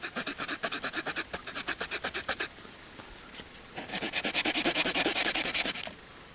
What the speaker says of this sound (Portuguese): Este corte de paragem, o chamado stop cut que eu fiz aqui, posso fazê-lo muito facilmente com a serra.